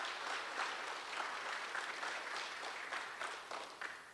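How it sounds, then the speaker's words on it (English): A crowd at a high school football media day gives a round of applause, a soft, distant wash of steady clapping that tapers slightly toward the end. "Another round of applause for Commissioner Tucker"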